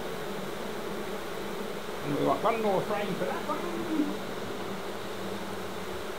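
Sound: honey bees buzzing around hive

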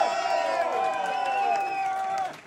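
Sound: pub crowd cheering and making noise for JP

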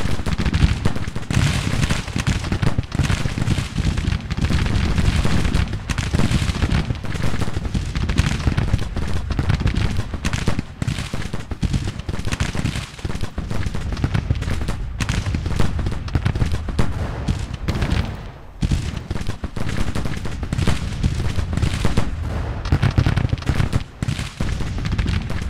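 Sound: artillery and gunfire in Grand Tactician: The Civil War video game

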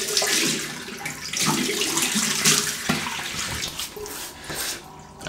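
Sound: running water, wetting the face before shaving

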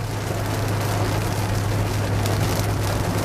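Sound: heavy rain on a Honda Accord while driving

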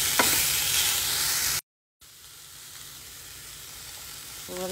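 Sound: vegetables and chicken stirred and sizzling in a pan

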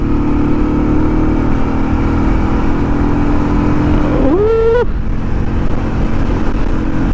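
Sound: Motorstar Zest 110 motorcycle accelerating

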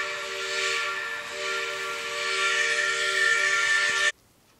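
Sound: steam locomotive whistle, Erie 2396

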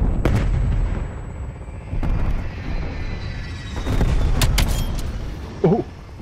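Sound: artillery fire in a video game

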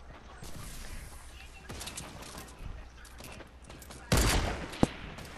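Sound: gunshots in the video game Fortnite

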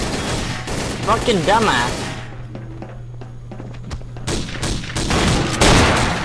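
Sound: guns firing in Codename Cure video game

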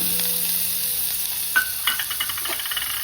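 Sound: spring onion greens added to a hot frying pan

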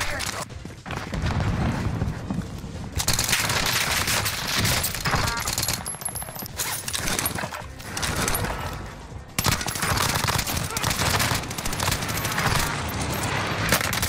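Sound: submachine gun fire in the video game Warzone Rebirth

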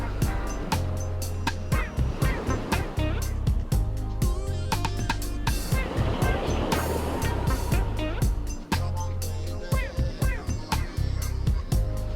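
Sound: sound of ocean waves

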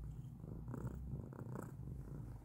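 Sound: cat purring

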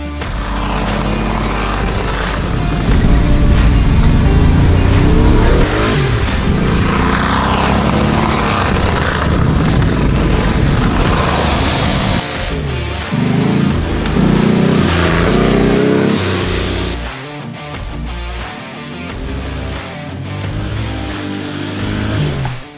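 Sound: Porsche 959 driving after restoration

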